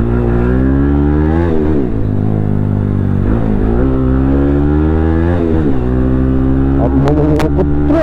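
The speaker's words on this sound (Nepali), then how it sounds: "क्लचले डुङ्गा लाग्यो भएर चाहिँ यस्तो साउन्ड आएको हो कि" A motorcycle with a worn clutch revs loudly up close, its engine note rising and falling in several uneven surges over a steady idle, with a few sharp clicks near the end.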